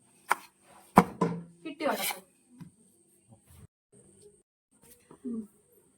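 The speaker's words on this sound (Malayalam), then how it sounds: "പിന്നെ നമ്മൾ മാങ്ങ ഈ പരുവത്തിൽ നമ്മൾ അരിഞ്ഞെടുക്കുകയാണ്" A knife chops raw mango on a board for a curry. A few sharp, irregular cuts stand out near the start, then come sparser, softer taps with quiet gaps, and some speech is mixed in.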